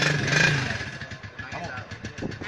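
A police motorcycle engine idles with a low, steady rumble in the background under ongoing talk and street noise, with no clear revving.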